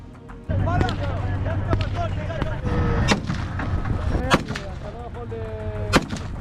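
Tank artillery, including Israeli Merkava-4 main battle tanks, bombards Gaza with repeated heavy booming blasts at irregular intervals over a constant rumbling background, while a voice talks underneath.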